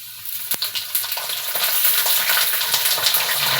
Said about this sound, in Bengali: দেখুন ভাজা হোক।